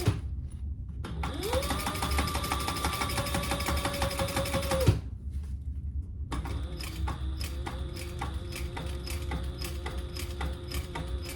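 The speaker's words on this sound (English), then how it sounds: "you're gonna top stitch over your handles" Sewing machine topstitching slowly over thick laptop bag handles, a loud whining motor burst, a brief pause, then a slower, rhythmic clacking run of stitches close by.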